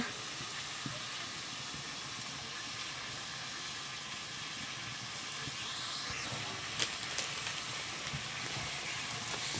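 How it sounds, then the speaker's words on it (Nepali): Water heating in a blackened cooking pot in a rural village kitchen, a steady close hiss and faint bubbling with low background noise and no voices. "यहाँ चाहिँ पानी उम्लिँदैछ"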